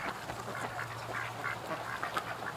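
Repeated soft quacking from a duckling that has just been stepped on, several short calls in an irregular rhythm over a low steady hum, fairly quiet.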